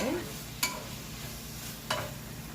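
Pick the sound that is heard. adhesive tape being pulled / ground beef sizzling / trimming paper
ground beef sizzling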